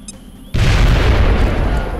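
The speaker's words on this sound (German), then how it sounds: "Granate raus!" Grenade explosion in the video game XCOM: a sudden loud, close boom that breaks a quiet stretch and rolls on as a dense, sustained rumble.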